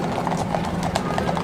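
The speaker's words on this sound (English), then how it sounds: "They are Border Patrol horses from California and Arizona." Border Patrol horses from California and Arizona clip-clop steadily across a park, their hooves giving a quick, even rhythm of close knocks over a constant background murmur.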